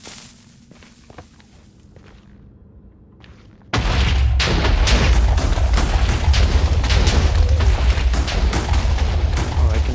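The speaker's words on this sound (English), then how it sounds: "You can just lay all these TNT down and get a nice chain reaction, stand back and let it happen." TNT blocks going off in a Minecraft chain explosion: a few faint pops, then a loud sustained roar of overlapping blasts rumbling continuously to the end.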